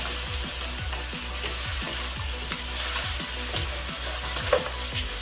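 Paella mix fries in a pan with prawns, making a continuous close sizzle broken by a regular rhythmic scraping of stirring.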